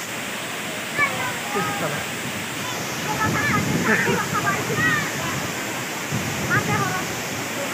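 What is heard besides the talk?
waterfall at Dambul, Pomdhi, Odisha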